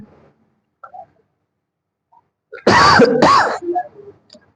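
Someone clears their throat in two harsh, close bursts, with a few faint smaller throat sounds before and after.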